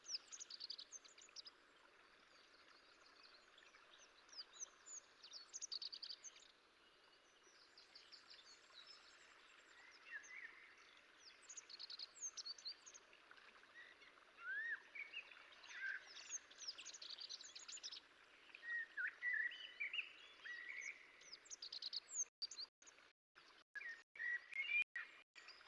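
A wild Bonelli's eagle calls in the Tagus International area of Iberia in autumn. Faint, high, chirping cries repeat in scattered bursts over a quiet outdoor background, with a few sharp clicks near the end.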